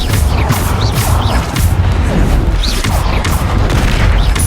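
Repeated Bombarda explosion spells in Hogwarts Legacy on PC crash and boom amid whooshing combat effects, a dense loud run of impacts in a trial fight.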